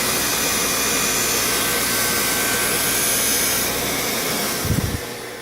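A Wissota skate sharpener grinds steadily along a bandy skate blade, a loud continuous close-up whine and hiss, ending with a few brief knocks as the pass finishes.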